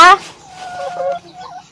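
Young laying hens clucking on a small egg farm, a sharp squawk up front followed by softer, fluttering clucks close by.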